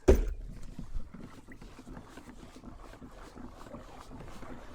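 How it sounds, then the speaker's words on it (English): Steady wind rushing over the microphone outdoors on open water on a sunny day, a low continuous buffeting with a brief louder gust at the start. "It's a little bit more windy than I would like."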